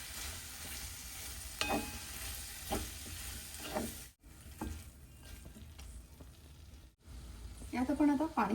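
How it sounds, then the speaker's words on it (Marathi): Chopped snake gourd is stirred in a hot pan, giving a steady sizzle with scraping strokes of a spoon, two brief silent cuts, and a voice speaking over it near the end. "आपण आता चिरलेला पडवळ घालूया. आणि हे छान मिक्स करून घेऊया."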